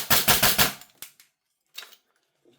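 A GunsModify HK416A5 airsoft rifle fed from a Gen 3 PMag fires about five quick semi-auto shots in a crisp, even rhythm, followed by a few faint clicks and then near silence.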